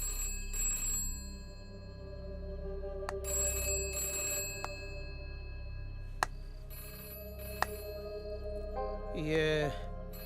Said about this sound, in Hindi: ये फिर से घंटी बजी.